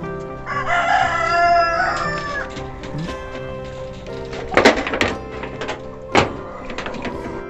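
Chickens and a rooster on a Sonali chicken farm: a loud, close cock-a-doodle-doo crow rises early, followed by scattered clucks and short sharp calls from the flock, with a couple of knock-like bumps.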